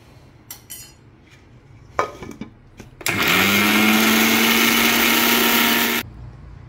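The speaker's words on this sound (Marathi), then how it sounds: "आता ही अजून आपल्याला बारीक पाहिजे तर अजून एकदा फिरून घेऊ।" A mixer grinder whirs loudly and steadily for about three seconds as it grinds dry sukka masala powder, preceded by a few light clinks and taps of handling the jar.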